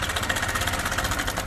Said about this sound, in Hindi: तो ये जो साउंड होती है ये होती है टाइमिंग चेन की।